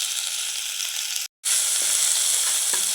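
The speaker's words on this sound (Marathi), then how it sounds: "तेल तापलंय. आता मिरचीचा ठेचा टाकतो." Green chili paste (mirchicha thecha) hits hot oil for a fasting-day potato dish, giving a loud, steady broadband sizzle with one abrupt brief dropout midway, then the crackling frying resumes with faint stirring scrapes.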